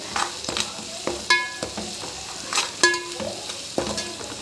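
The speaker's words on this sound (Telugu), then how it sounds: "అల్లం వెల్లుల్లి బాగా దీంట్లో ఫ్రై కావాలి ఆయిల్లో" Ginger, garlic and curry leaves fry in hot oil while a spoon stirs them, giving a steady sizzle broken by several sharp scraping clinks, close and fairly loud, with no talking.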